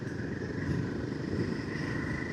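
A Royal Enfield Himalayan 450 motorcycle cruising on a Mumbai to Alibag ride, a steady engine drone with wind rumble, continuous and close.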